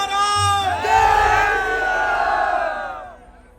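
A large crowd at an event in Haridwar, Uttarakhand cheers and roars loudly for the singer, a swelling chorus of shouts and whoops that holds strong and then tapers off near the end.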